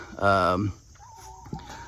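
A chicken in a pen lets out a loud drawn-out squawk, followed by softer clucks and a brief scuffle nearby, with a person speaking in the background.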